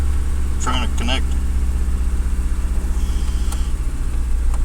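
A car engine idles roughly with a cylinder 4 misfire, a low uneven rumble throughout, with a person speaking briefly over it.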